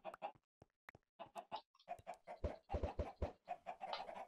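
Chickens in Minecraft cluck in short, separate bursts that grow denser and overlap toward the end, close and clear against otherwise quiet surroundings.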